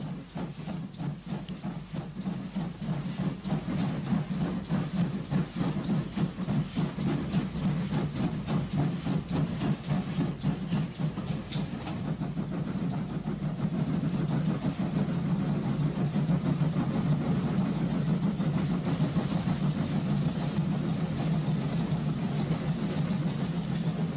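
A special train rolls through a Welsh station on its way down toward Trawsfynydd, a low steady rumble of wheels and engine that holds at moderate distance and swells slightly as it passes, with no voices.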